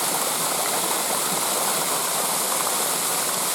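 A waterfall and stream pour continuously outdoors on a warm day, a loud, dense, broadband rush of falling and flowing water with a steady hiss and no voices.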